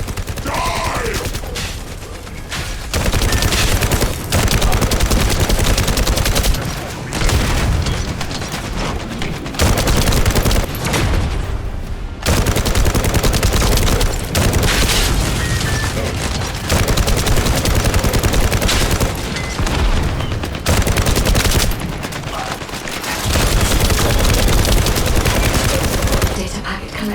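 Heavy gunfire and a precision bomb blast from The First Descendant game ring out in loud, dense bursts of rapid shots and booms, broken by a few short lulls.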